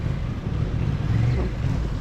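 A big motorcycle rumbles past at close range, a steady low engine drone that swells slightly as it goes by, heard alone without talk.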